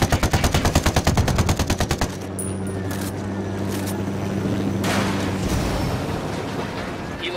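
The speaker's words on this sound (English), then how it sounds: "machine guns. Ready? Open fire." Rapid machine gun bursts open loud and close in the Ghost Recon Wildlands video game, a fast rattling string of shots for about two seconds, then give way to a low rumbling engine drone with scattered distant impacts.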